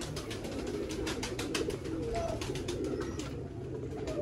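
Teddy pigeons coo steadily in a loft, a dense layered flock of low murmuring calls running throughout with no voices.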